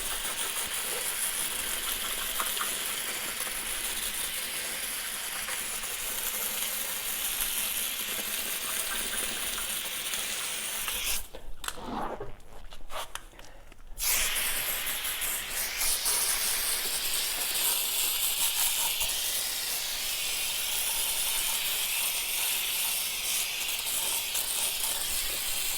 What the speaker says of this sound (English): Now let's go ahead and rinse the wheel off.